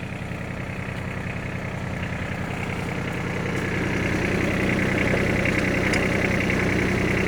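A Yanmar AF160 tractor engine runs steadily with its PTO shaft engaged, a loud, continuous diesel drone that holds an even rhythm throughout with no talking.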